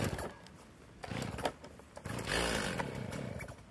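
The starter cord of a cold Stihl chainsaw with the choke engaged is pulled several times, giving short ratcheting rasps and brief sputters, close by.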